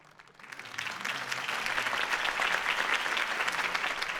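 A crowd applauds after a campaign speech in a Batman video game, rising from a few claps into loud, sustained, dense clapping that carries on.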